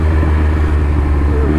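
Triumph Speed Triple RS motorcycle engine with quick shifter, a steady loud low rumble at speed, continuous and close, with no talk.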